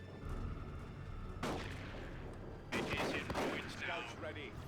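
A shotgun squad opens fire in a Dawn of War 2 battle against Tyranids: two sharp bursts of gunfire crack out over a rumbling battlefield bed, with a commentator's voice talking throughout.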